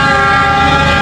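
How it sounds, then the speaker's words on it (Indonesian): Batu Raden Express passenger train passing straight through Cikudapateuh station, a loud sustained horn blast with steady rolling rail noise underneath, close by. "Kereta api Batu Raden Express persiapan melintas langsung di stasiun Cikudapate"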